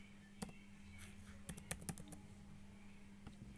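Name typed on a Lenovo laptop keyboard: a few sparse key clicks, then a quick cluster of taps and a final lone keystroke, quiet and close over a steady low hum.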